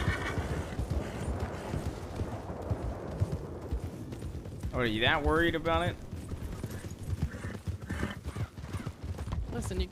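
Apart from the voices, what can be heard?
horse hooves and whinny in video game Red Dead roleplay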